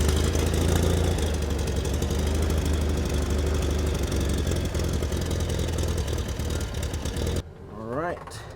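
A home-built car's engine runs steadily at close range, a loud low rumble for most of the stretch before it cuts away abruptly near the end, where a voice briefly speaks.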